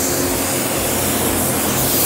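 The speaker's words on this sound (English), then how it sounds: "I'm just going to spray it along this edge here." A spray gun lays waterborne base coat onto raw plastic with a loud, steady, unbroken hiss that fills the whole stretch without pause.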